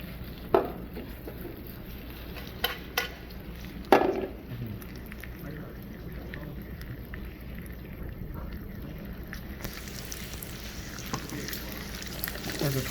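Vegetables stir-fry in rendered pork fat from grilled pork jowl, giving a soft, steady sizzle with a few sharp clatters of the pan early on while someone talks.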